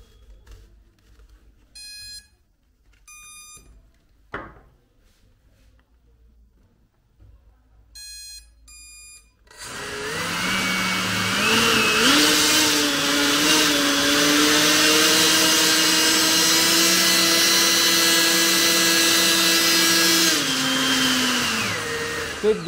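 A 3D printed jet blower fitted with a converging nozzle: a few short electronic beeps in near silence, then the blower starts loud and close as a steady, whining roar that holds with a slight pitch drift before easing near the end.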